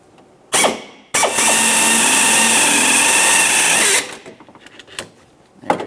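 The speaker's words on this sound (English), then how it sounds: "Now let's remove this rivet using a 3/8 drill bit." A 3/8 drill bit bores out a rivet on a 1998-2002 Lincoln Navigator tailgate, one steady close, loud whining drill run of about three seconds, preceded by a short burst and followed by light clinks and handling noises.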